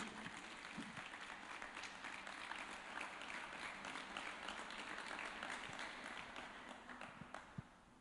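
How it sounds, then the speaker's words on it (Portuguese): Church congregation applauding during a Sunday worship service, continuous clapping heard faintly and at some distance, holding steady before thinning out near the end. "Uma salva de palmas para Jesus"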